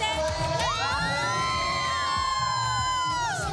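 A crowd of schoolchildren at a school visit by the Calle 7 TV show cheers and shouts, with high whoops and rising yells over a loud, continuous roar of voices.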